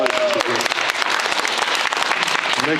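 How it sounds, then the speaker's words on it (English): Audience applause at a high school spring signing day, a dense burst of clapping from a crowd lasting a few seconds, close and steady, with voices faintly mixed in. "One more round of applause."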